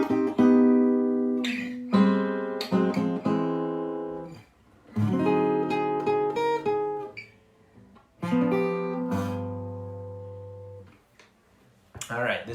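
Jazz guitar playing a chord-melody intro to a song: plucked chords and single notes ring out in phrases, some left to sustain, with brief gaps between them.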